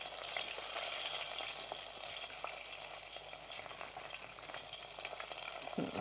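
Chicken strips frying in hot oil give a steady, close, bubbling sizzle that crackles continuously without pause.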